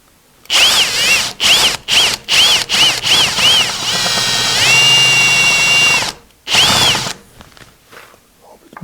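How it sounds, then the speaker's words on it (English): A drill press whines up in a series of short, close bursts, then runs steadily for a couple of seconds as a spade bit cuts a shallow recess into wood, followed by one final burst. "I'm using a spade bit to slightly recess that."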